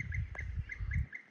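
A recorded kite distress scream played through a loudspeaker to scare bee-eaters near an apiary, sounding as repeated shrill calls in quick bursts, fairly faint and thin.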